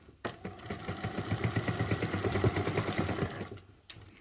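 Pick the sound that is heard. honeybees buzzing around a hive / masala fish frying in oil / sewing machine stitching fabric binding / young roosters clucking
sewing machine stitching fabric binding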